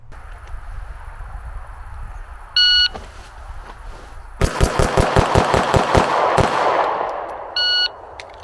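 A subcompact Shield Plus pistol fitted with a ZeroTech Thrive HD red dot fires a rapid string of about ten sharp, loud gunshots, with short electronic beeps sounding before and after the string.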